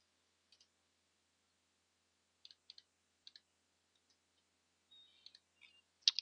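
A computer mouse clicking while a new folder is made: sparse, faint, isolated clicks, some in quick pairs, scattered over near silence, with a small cluster of clicks at the end.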